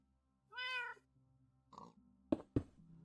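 A cat in the Minecraft video game meows once with a long, clear harmonic cry, then a pair of short sharp cat sounds follows after a brief gap, set against quiet low game ambience with no talking.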